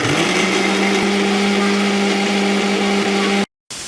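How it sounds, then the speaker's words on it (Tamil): A loud electric mixer grinder grinding spices whirs at a steady high pitch for a few seconds, then cuts off abruptly before briefly restarting. "இதை வந்து மிக்ஸில் போட்டு அரைச்சிக்கலாம்"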